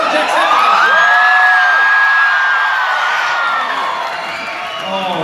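A live audience at a Jacksepticeye comedy show in Oslo cheers, whoops and shouts loudly and continuously, high excited voices rising over a dense crowd roar that eases slightly toward the end.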